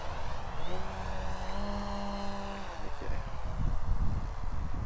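FMS Beaver 2000mm V2 electric RC model airplane on a 4S battery doing a touch and go, a steady motor whine with pitch bending as it passes and lands, heard outdoors at moderate distance.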